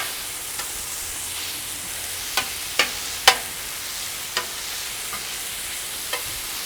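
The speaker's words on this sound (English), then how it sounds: "Shrimp's cooking just fine." Shrimp and skirt steak seasoned with black garlic sear on a Solo Stove SteelFire griddle, a steady soft sizzle with a few sharp spatula scrapes and taps scattered through, close and alone.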